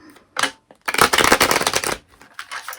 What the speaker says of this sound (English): I'm gonna give it one last shuffle